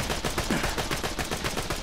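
Turret gunfire in Borderlands 2, a fast, evenly spaced stream of shots, roughly eight or nine a second, steady and fairly loud throughout.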